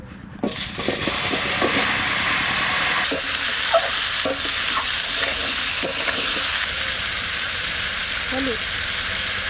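Papaya stir-fried in hot oil in a wok: a loud, continuous hissing sizzle close by, with occasional scraping and clinking from stirring and a faint voice underneath.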